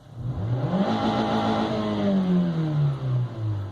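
A car engine is revved once during a diagnostic scanner test on a cold day in the UK. It surges loudly and steadily, then winds back down, close and alone.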